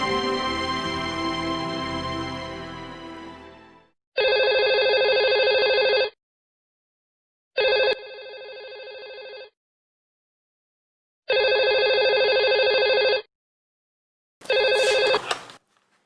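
A telephone rings in repeated two-second electronic bursts separated by pauses, loud and near, after a fading tone at the start.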